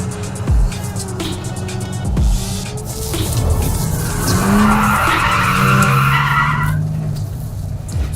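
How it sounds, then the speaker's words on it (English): Tires on a Mercedes-AMG car squeal and skid during a rollover stability test on a track, the engine note rising and falling beneath long, strained slipping sounds that swell loud toward the end. "I drove through it quite slowly, so you could feel that the car was slipping a little bit"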